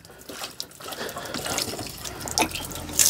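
Water splashes and trickles out as a Hayward pool salt cell is unscrewed and removed from the plumbing, a close, fairly quiet spattering flow with small drips, rising a little toward the end.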